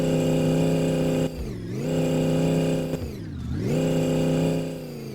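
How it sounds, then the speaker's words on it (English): A supercharged V8 car engine in a video game revs on a dyno, holding a loud steady drone and dipping and climbing twice in pitch. "our supercharged V8 currently puts out 2025 horsepower"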